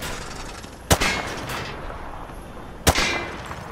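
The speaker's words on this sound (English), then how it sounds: "Grab that weapon off the table and fire at the targets behind you." Call of Duty Modern Warfare 2 weapon fired at range targets: two sharp, loud single shots about two seconds apart, each with a short ringing tail over a steady background hiss.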